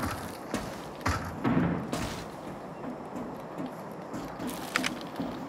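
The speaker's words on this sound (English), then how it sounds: "Is that a gunshot?" A gunshot in the video game Arena Breakout, faint and distant, arriving as a few dull muffled thumps against a low, steady background.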